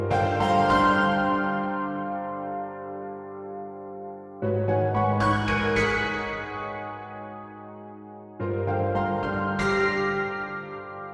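Xtreme Piano preset with delay and reverb turned up: three struck piano chords, each ringing out into a long, spacious, echoing tail, evenly spaced and fairly soft, no voices.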